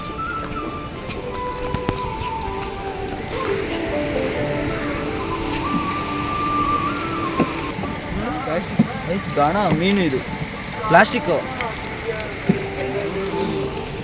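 Heavy rain pours down on Malpe Beach beside fishermen's catch, a dense, steady hiss that runs unbroken while people talk close by.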